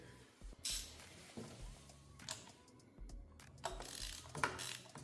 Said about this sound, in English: Loosen up the spark plug.